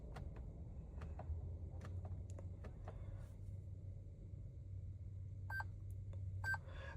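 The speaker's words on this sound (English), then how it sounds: "Those two beeps and flashes just told us that we can now drive the vehicle." Two short electronic confirmation beeps a second apart from an IGLA anti-theft system on a 2021 Toyota Land Cruiser 200 Series, sounding over a low steady engine-like rumble with faint clicks earlier.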